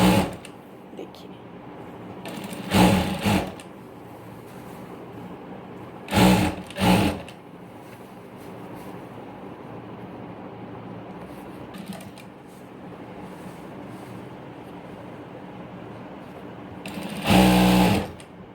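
A sewing machine stitches a 4-inch fabric strip lengthwise onto palazzo pants, running in loud close bursts of a few seconds each, separated by quieter stretches of handling noise.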